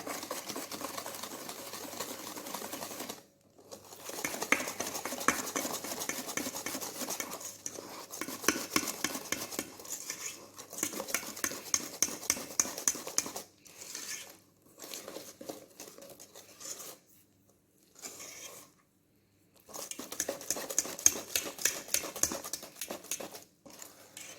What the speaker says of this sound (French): Et on fouette de nouveau.